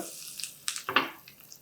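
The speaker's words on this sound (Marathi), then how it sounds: "मोहरी छान तडतडती आहे" Sharp crackling pops of mustard seeds spitting in hot oil, a few bursts close by over a low sizzle, with no voices.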